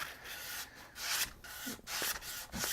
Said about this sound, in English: just sand it down